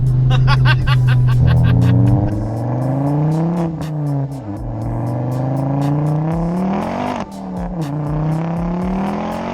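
Very loud MK2 Ford Focus RS engine close by, a deep throbbing rumble that rises and falls through revs, with a rapid crackling burble at the start and people talking underneath.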